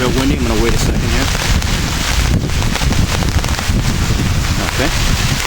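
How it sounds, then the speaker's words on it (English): Strong outdoor wind roars and buffets the microphone continuously while someone strikes flint and steel to light charcloth, with a voice speaking intermittently over the gusts. "It's real windy."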